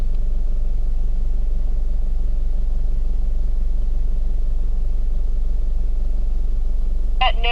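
A 4WD vehicle climbs a dirt track on the Burgoyne Track in Victoria with a steady, heavy low engine rumble. The sound is close and constant, with a brief higher-pitched squeal near the end.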